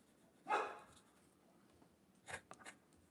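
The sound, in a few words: dog barking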